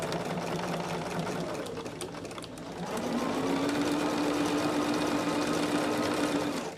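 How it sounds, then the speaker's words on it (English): Domestic sewing machine stitching quilt block pieces together, a steady continuous mechanical hum and whir that pauses briefly near the middle, then resumes slightly higher and louder, close up with no talk. "So now we're sewing together block 3."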